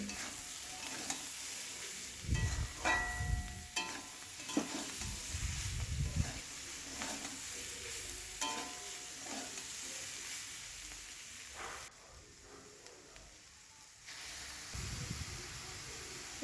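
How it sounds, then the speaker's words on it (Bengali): Winter vegetables with ground spices and salt fry in a pan while being stirred, giving a steady sizzle broken by scraping, thumping strokes of the spoon and a brief quieter pause. "দিয়ে সবজিটাকে ভালো করে নেড়ে নেবো"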